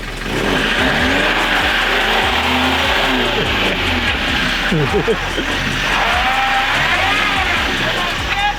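Off-road vehicle, a Nissan Patrol or Toyota Land Cruiser LJ70, revving hard with a wheel spinning in winter terrain. The engine is loud, close and steady throughout with rising and falling pitch, and voices shout over it.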